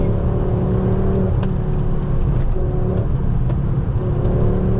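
Tuned stage 1 2007 Ford Focus ST MK2 with its five-cylinder engine accelerating, a loud, steady in-cabin drone with rising engine tone and road roar throughout.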